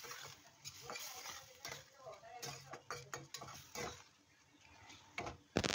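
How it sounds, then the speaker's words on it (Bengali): Mustard and green chili paste being stirred into ridge gourd and potato in a pan, giving close scraping and clinking of a utensil in quick irregular strokes, with faint sizzling underneath. "সর্ষে ও কাঁচা লঙ্কার পেস্টটা দিয়ে ভালোভাবে একটু নাড়াচাড়া করে মিশিয়ে নেব"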